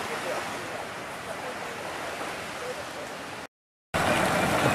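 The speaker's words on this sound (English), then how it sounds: "Here at the Black Beach." Surf at the Black Beach in Langkawi on the Andaman Sea: a steady, dense rushing of waves with wind noise, loud and continuous, broken by a short dropout of total silence near the end.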